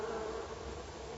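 A steady, droning bee buzz plays from a gramophone record, continuous and fairly loud with a thin, band-limited tone, alone without voices.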